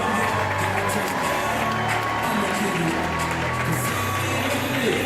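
An awards event crowd cheers and claps for the Leaders of the Year, with sustained loud cheering, shouts and applause filling the room throughout.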